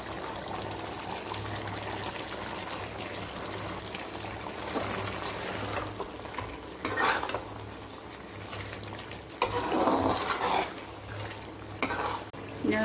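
Chicken jalfrezi with capsicum and onion sizzles in a pan while a spoon stirs and scrapes through it, a steady frying hiss broken by louder scraping bursts, close and without talk.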